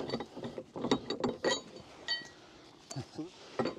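A Bubba Power Stretch recovery rope kit is hooked up to a vehicle hitch. Close, sparse metallic clinks and rattles come in short bursts, with quiet gaps between them.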